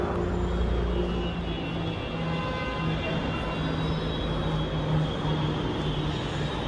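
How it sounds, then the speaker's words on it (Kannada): Metro train pulling into a Bangalore station, a steady, loud rumble of wheels and motor with a low hum throughout, no talking. "ಇನ್ನು 1 ಸೆಕೆಂಡಲ್ಲಿ ಟ್ರೈನ್ ಬರುತ್ತೆ ನಮ್ಮದು"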